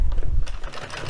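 An addi Express Kingsize knitting machine is cranked while knitting a striped hat, giving a rapid run of close mechanical clicks and rattles.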